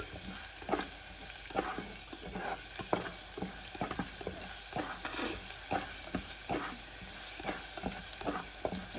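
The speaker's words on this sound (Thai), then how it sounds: "เจียวกระเทียม เจียวไปโรยเจียวไปโรย" Garlic fries in a pan in a home kitchen, a soft, continuous sizzle broken by frequent clinks and scrapes of stirring, with no talk.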